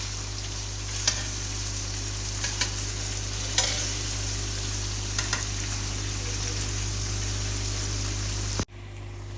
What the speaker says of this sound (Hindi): ये हमारा प्याज दूसरी साइड वाला लाइट सॉफ्ट हो चुका है और इसको भी हम हल्का सा गोल्डन ब्राउन करेंगे।